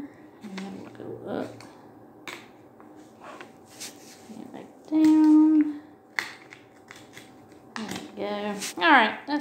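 Scissors snip through paper during a Christmas advent craft, a few short crisp cuts scattered among pauses and handling noises while someone talks intermittently nearby.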